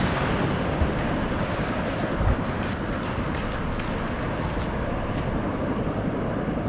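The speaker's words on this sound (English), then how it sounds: "Massive explosion there." A massive explosion in the real-time strategy video game Warno rolls out as a broad, continuous low rumble with heavy booming surges, loud and sustained, amid ongoing artillery bombardment.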